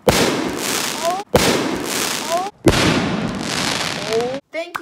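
Fourth of July fireworks, one of them set off on the ground rather than launched from a tube, give three long, loud crackling bursts with rising whistles, separated by brief gaps.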